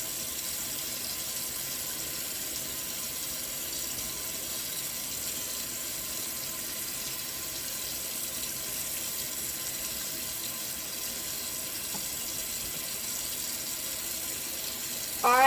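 Hot water running steadily from a tap into a sink, a constant even hiss of flow throughout with no talking, ending in a slight rise.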